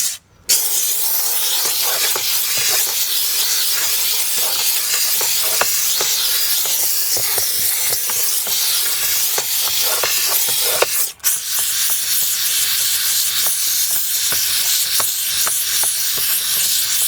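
A steam cleaner gives a loud, continuous hiss while cleaning a car interior, running steadily for most of the stretch with one short break, then resuming.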